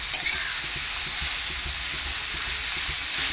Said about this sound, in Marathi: ती तेल गरम झाले की त्यात टाकायचं आहे। आणि त्याला परतून घ्यायचं आहे।